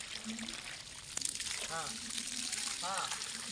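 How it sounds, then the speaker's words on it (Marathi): Water splashes steadily from a pipe fed by a newly connected motor pump, a continuous close hiss with people talking over it. "मस्त पाणी आले बघा"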